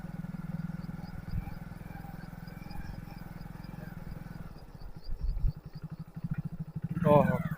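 A motorcycle engine drones steadily while riding along a rough rural track with water-filled potholes, then grows uneven and bumpy toward the end, with a brief voice near the close.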